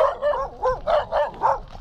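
A dog barks close by in a quick run of about five short, yippy barks, evenly spaced.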